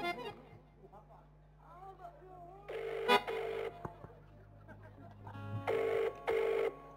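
A telephone call rings in repeated bursts with pauses between them, under low talk and background sounds, moderately loud.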